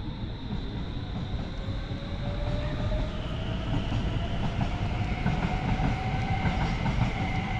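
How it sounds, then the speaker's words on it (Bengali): A train passes close by in Sweden, a continuous heavy rumble and rhythmic clatter of wheels on rail, with a drawn-out screeching tone sliding in pitch throughout, loud and steady. "দেখেন আমার ট্রেন যাইতেছে।"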